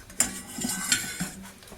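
Whisking jaffa cake mixture in a bowl, with quick metallic clinks of a whisk against the bowl in an irregular rhythm, close and fairly clear.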